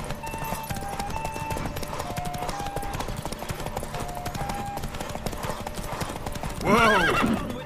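Hooves clip-clop in a quick, steady galloping rhythm, then a horse lets out a loud, rising whinny near the end, from the video game The Witcher 3.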